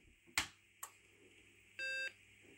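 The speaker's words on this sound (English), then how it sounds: "Does the beep. All good." A short electronic beep from an Acorn Electron home computer at startup holds steady for about a quarter second after two faint clicks, clear against a quiet background.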